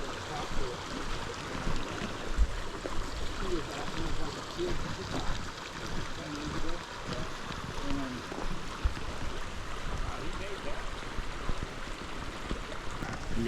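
Creek water rushing and burbling over rocks at a trail crossing in the Golden Trout Wilderness, a constant close wash of flowing water with faint rustling and occasional thumps.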